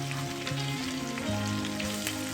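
Finely chopped onion, about one medium, hits a hot pan for a Punjabi dhaba-style dal fry, giving a steady, close sizzle and crackle over a faint background tone with no talking.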